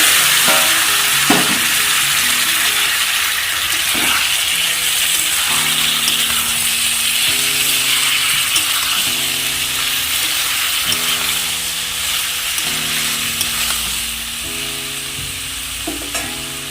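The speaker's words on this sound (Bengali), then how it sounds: "তো এর মধ্যে আমি সেদ্ধ করে রাখা আলু, কপি আর ডিম ভেজে রেখেছিলাম দিয়ে দেবো।" Boiled potato, cauliflower and fried egg are tossed into masala frying in oil for an egg curry, making a loud, dense sizzle with repeated scraping stirs and clanks throughout.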